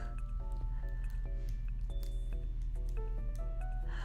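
Orbeez water beads being squished by hand, a stream of small wet squelches and drippy pops in irregular quick succession, quiet and close over a low steady hum, with no talking.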